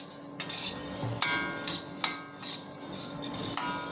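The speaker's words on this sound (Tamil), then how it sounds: "மறுபடியும் கடாய் வச்சுட்டு ஒச்சக்கலையை போட்டு ஒரு வதக்கு" Roasted gram being sautéed in a kadai for an urad dal barfi sweet, with repeated metallic scrapes and clinks of a spoon against the pan at a steady, close rhythm.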